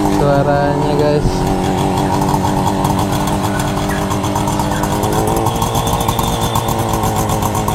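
Cold Yamaha two-stroke twin 125 on its standard exhaust and original air filter idling loud and close, a steady crackling buzz with small throttle changes throughout.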